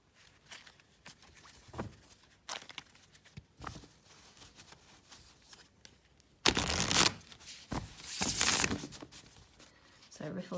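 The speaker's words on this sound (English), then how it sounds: "So it riffles very smoothly, shuffles very well." A Mystical Manga tarot deck is riffle-shuffled, with soft, scattered card flicks and taps followed by two loud, fluttering riffle bursts, and a voice speaks quietly between them.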